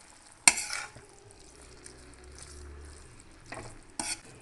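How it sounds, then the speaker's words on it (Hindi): Chow mein noodles being stirred and tossed with vinegar and soy sauce in a hot pan, with a few sharp scraping clatters of the utensil over a soft, steady sizzle, close and without talk. "हम विनेगर, और सोया सॉस हम करेंगे अच्छे से मिक्स।"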